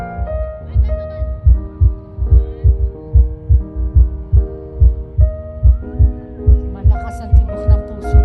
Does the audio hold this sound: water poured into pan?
no